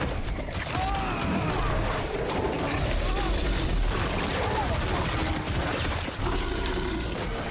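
Dense, continuous gunfire from the video game Killing Floor 3, with rapid automatic bursts and shots layered over a busy in-game background, loud and unbroken throughout while a player talks over the action.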